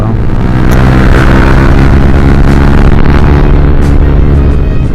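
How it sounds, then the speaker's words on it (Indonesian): A Yamaha MX King motorcycle engine runs loud and close while riding, a constant rough drone with wind buffeting that stays level from start to finish. "Untuk ukuran motor standar sih ini enak banget ya tarikannya menurut gua"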